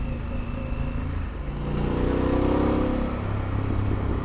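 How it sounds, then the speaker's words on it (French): A Harley-Davidson Pan America Special's big engine hums while riding, a low droning note that swells and rises in pitch midway, heard close up through wind noise. "Un zeste de sonorité de moteur qu'ils ont là, les gros moteurs."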